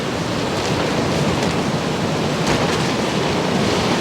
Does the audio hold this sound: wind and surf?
yes